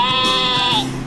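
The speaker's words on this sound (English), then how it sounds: "The sheep says" A sheep gives one loud, close, wavering bleat that lasts about a second.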